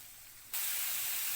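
Onions sauté in a hot pan, with a faint low hiss that suddenly jumps into a loud, bright, steady sizzle, as though more ingredients just hit the oil.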